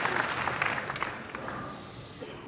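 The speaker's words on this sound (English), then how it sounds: "the crowd respond immediately to Mika." A crowd at the 2012 Weber Cup bowling competition breaks into applause, a busy spread of clapping heard from some distance that gradually tapers off.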